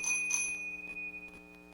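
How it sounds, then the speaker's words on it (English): A small hand bell rung at a church Wednesday service: two bright strikes early on, then a sustained ringing tone that fades under fainter taps, with no talk. "Come on, ring the bell."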